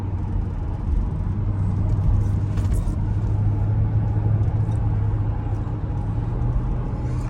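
A 2004 Mercedes driving after a coilover suspension conversion, heard from inside as a steady low engine and road rumble with constant tyre whir, loud and unbroken throughout.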